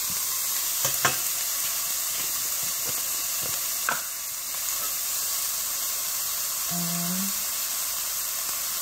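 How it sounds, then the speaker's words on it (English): Onion frying in a pan with a sprinkle of black pepper, a steady close sizzle running throughout, with a few scrapes and stirring knocks and a brief low hum near the end. "Cook your onion, guys."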